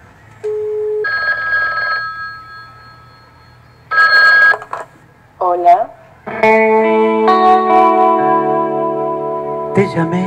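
A telephone ring in a stage tribute performance, sounding as steady electronic ringing tones in separate bursts with short pauses, then a longer distorted, layered ring.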